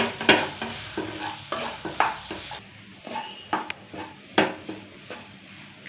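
A spoon or spatula scrapes and knocks against a pan while samosa masala of mashed potato and peas with added salt is stirred, giving rhythmic clatters over a faint sizzle, close and without speech.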